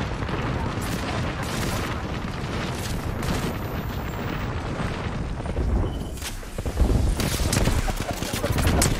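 Heavy gunfire in the video game Apex Legends, dense rapid bursts and booming impacts layered over constant noise, loud throughout with a sharper flurry near the end, and voices talking beneath.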